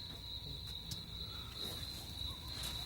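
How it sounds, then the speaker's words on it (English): Crickets chirping outdoors, a steady, monotonous high trill pulsing continuously at low volume with no other prominent sounds. "Those are about the most monotonous fucking crickets I ever heard in my life."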